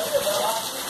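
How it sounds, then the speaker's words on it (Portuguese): Heavy rain pours down steadily during a storm, a dense continuous hiss with a faint voice murmuring underneath. "Mas essa chuva tá com cara de daqui a pouco ela vai passar."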